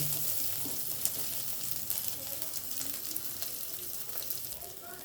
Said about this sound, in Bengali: এবারে আমি এটাকে একটু ভাজবো